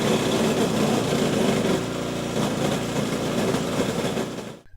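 A small engine on agricultural machinery, used to drive a bioshredder or a power sprayer pump, runs loudly and steadily at close range with an even buzzing drone, then cuts off at the very end.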